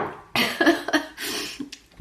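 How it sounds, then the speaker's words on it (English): A coughing fit, several harsh, close bursts of coughing in quick succession separated by short gasping pauses. "I just had a huge coughing fit and I couldn't get my voice back"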